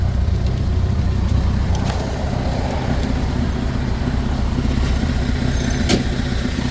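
A 1928 Model A race car with a four-port overhead valve head conversion runs steadily at idle, its low, even engine rumble constant and close throughout.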